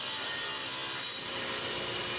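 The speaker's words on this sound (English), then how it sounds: "I did use another sanding shim for the tail feathers, shaping those all together" Wooden tail feathers of an intarsia cockatoo shaped together on a sanding shim, giving a close, continuous, even abrasive hiss with no pauses or voices.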